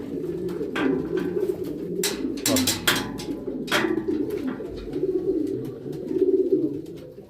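A male homing pigeon coos repeatedly while courting a female, its low rolling calls near and steady throughout, with a few sharp clicks or wing sounds and a brief spoken word in between.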